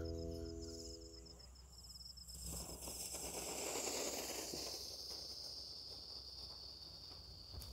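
A Lovely Fountain firework fountain burning, a continuous hissing spray with crackling bursts and a high whistling tone, steady at moderate loudness.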